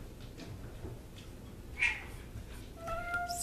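A house cat meows once, fairly close and brief, in a quiet home, followed by a few faint higher chirping calls near the end.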